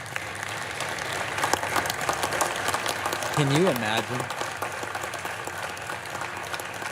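Steady applause fills the Senate chamber after the impeachment trial verdict, a continuous crowd clapping heard throughout, with voices talking over it.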